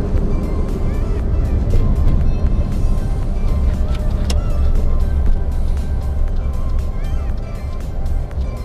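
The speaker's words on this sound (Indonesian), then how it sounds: "Dan ini benar-benar ngerem mendadak, tapi masih kehandle sama Suzuki Karimun." Suzuki Karimun Kotak car at highway speed, around 120 km/h, then braking suddenly, with a steady loud rumble of road and engine noise throughout and no clear tyre squeal standing out.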